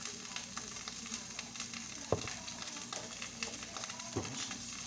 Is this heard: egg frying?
yes